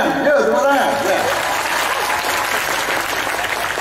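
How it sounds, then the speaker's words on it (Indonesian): An audience at an Islamic religious gathering breaks into loud, close, continuous clapping that holds steady throughout, with a voice talking over the start. "Tepuk tangan."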